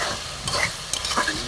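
Ridge gourd frying with fish in a pan in a village kitchen, stirred with a spoon: steady close sizzling with a few scraping stir strokes, no talking.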